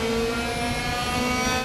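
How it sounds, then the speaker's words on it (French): An Audi race car engine in the Raceroom racing game holds a steady high-pitched whine at the rev limiter, loud and continuous for a short burst. "On est allé malheureusement déjà taper dans le rupteur"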